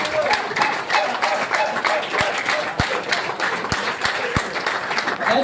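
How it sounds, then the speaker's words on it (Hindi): An audience welcomes a guest onstage with loud, sustained applause. Many hands clap together, with a few sharper claps standing out from the steady crowd noise. "जोरदार तालियां होनी चाहिए सर के लिए।"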